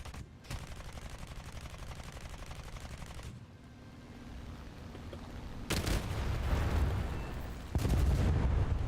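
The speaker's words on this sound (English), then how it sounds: "That was some carpet bombing with this thing." Bombs from a Tupolev bomber in War Thunder fall in a carpet-bombing run, with a long rumbling roar and then heavy booming blasts that swell in loudness toward the end, with no talk.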